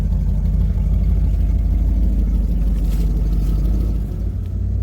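An old van's engine runs steadily on its first ride, a continuous low rumbling drone heard from close by that dips briefly near the end, with no talking.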